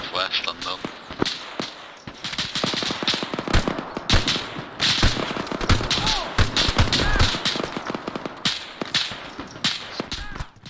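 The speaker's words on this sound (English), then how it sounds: "Gunshots northwest unknown." Gunfire during a military patrol exercise, with many sharp cracking reports in irregular bursts throughout, fairly loud and close, mixed with rustling movement.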